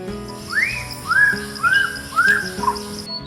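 A songbird, a magpie-robin or shama, sings a run of four or five clear, rising whistled phrases at a steady pace, close and loud, with no talking.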